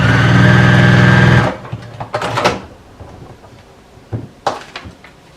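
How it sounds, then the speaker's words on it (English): A sewing machine stitches fabric pieces for a bunny ear in a steady loud whir, then stops abruptly, followed by a few close clicks and handling knocks of fabric and machine parts. "So let me sew those up."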